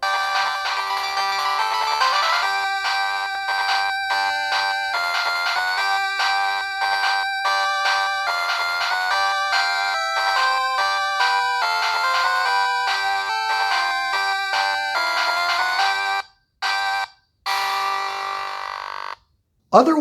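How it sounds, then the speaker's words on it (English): Chiptune-style Pokemon Prism game music plays steadily through the built-in speakers of a blue Analogue Pocket handheld, bright beeping melody with quick rhythmic notes, cutting out briefly near the end. "let's have a quick listen to Pokemon Prism"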